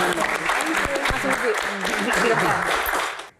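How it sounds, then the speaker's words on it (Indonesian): Audience applause at an Indonesian Q&A talk event, a dense steady wash of clapping from a crowd that fills the room throughout, with scattered voices underneath before it fades out at the end. "Tepuk tangan untuk Mas Dede."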